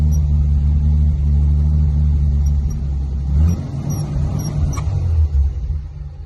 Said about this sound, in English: I'm revving it up now a little bit for you.